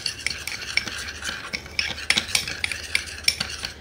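A homemade lip tint mixture stirred briskly in a small container, a rapid run of light clinking and scraping taps, close and continuous, with no voices.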